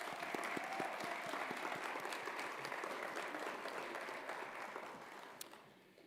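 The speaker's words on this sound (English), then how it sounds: "Sarah Jo, we'd love to just give you a round of applause." Sustained audience applause in a hall at a university's State of the University address, dense even clapping from a large crowd that holds steady for several seconds before fading toward the end.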